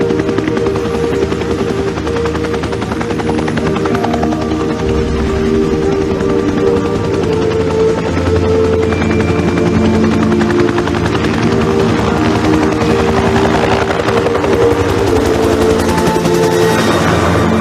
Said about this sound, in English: That familiar whop, whop, whop is the soundtrack of our war